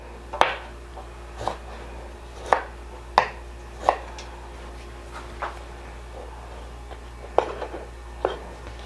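A kitchen knife slicing vegetables by hand on a cutting board, with irregular sharp chops spaced about a second apart over a low steady hum and no talking.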